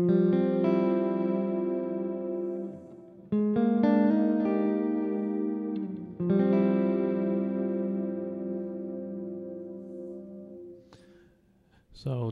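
Electric guitar through a VVT X-40 amp on a clean tone with an Eventide Pitch Factor adding spread, three long strummed chords ringing out and decaying, close and sustained, ending with faint string noise.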